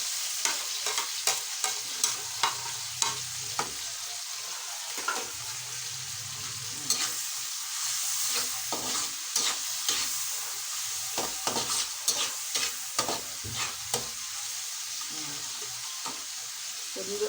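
Chili and garlic sautéing in a pan for a bagoong dish, with a steady close sizzle under repeated scraping stirs of a utensil against the pan.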